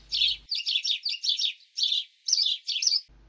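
House sparrows chirping in a rapid series of bright, sharp tweets grouped into short bursts, close and clear, with a faint low hum at the start and end.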